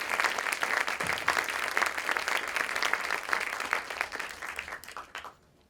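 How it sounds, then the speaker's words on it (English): Audience applause breaks out after a panel discussion, a dense, sustained clapping from a room of people that holds steady for about five seconds before cutting off abruptly. "can we get a round of applause for this excellent group"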